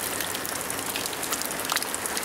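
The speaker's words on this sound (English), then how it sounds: "it's pissing down again" Heavy rain pours down in a backyard, making a dense, steady hiss with close drops pattering on surfaces throughout.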